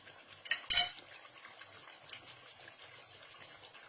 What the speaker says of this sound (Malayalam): ഇനി ഇതിലേക്ക് നമ്മൾക്ക് തൈര് ആഡ് ചെയ്യാം